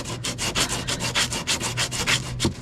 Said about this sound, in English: Now we're just gonna sand it.